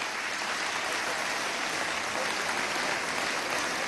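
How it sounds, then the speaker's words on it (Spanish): A large crowd at a speech marking the opening of Venezuela's judicial year bursts into loud, dense, sustained applause that fills the whole stretch without letting up. "Un aplauso especial desde nuestro corazón."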